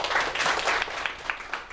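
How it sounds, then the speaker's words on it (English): A seated audience at a school debate on calculators in the classroom claps for a judge being introduced: a dense, steady burst of many hands, fairly close, with a few sharper claps standing out as it thins near the end. "Please give them a round of applause."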